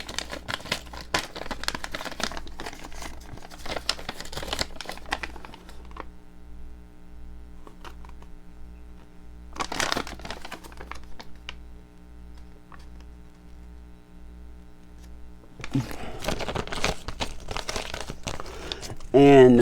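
A plastic packet bag holding a Spyderco knife clip-removal tool crinkles and rustles in bursts of handling close by, with quieter ticking pauses between and a steady low hum underneath.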